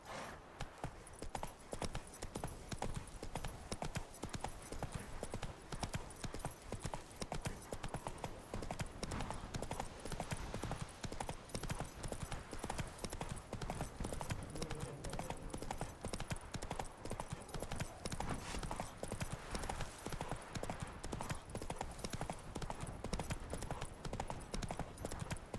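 A horse gallops in The Witcher 3 video game, its hooves beating a fast, continuous clip-clop rhythm throughout, close and steady with faint background sounds.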